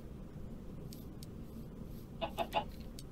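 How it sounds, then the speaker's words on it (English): Chickens in a co-op video game give a few quick, faint clucks near the end, set against a low steady background hum. "Where'd the chicken go? Just dumb chickens."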